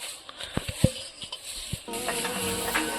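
Eel pieces (kuicha fish) fry with potatoes in a pan. A few close utensil knocks and scrapes come first, then a steady oily sizzle rises and holds, with no voice over it.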